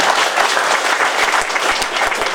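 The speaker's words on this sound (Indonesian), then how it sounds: "Tepuk tangan." Loud, dense crowd applause at a traditional Wuat Wa'i ceremony in Ranggu, Manggarai Barat, a continuous roar of clapping hands close by.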